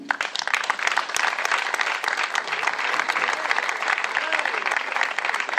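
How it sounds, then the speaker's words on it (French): An audience claps steadily at a political campaign rally in Port-Gentil, a dense wash of applause from a crowd holding at an even level throughout. "Mesdames et messieurs, je voudrais que vous applaudissiez pour Pierre-Marcel Mbungu"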